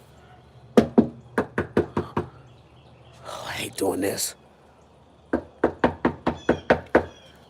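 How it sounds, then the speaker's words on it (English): Someone raps on a front door that lacks a doorbell, two firm runs of about six quick knocks each, close and loud, with a short stretch of speech between them. "Oh, I hate knocking on people's door."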